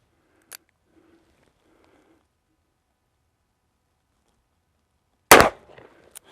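A Dan Wesson 744-V .44 Magnum revolver fires a single loud, sharp shot at a 25-yard range, preceded by a faint click and soft handling noise, with brief ringing afterward.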